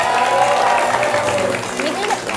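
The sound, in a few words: audience clapping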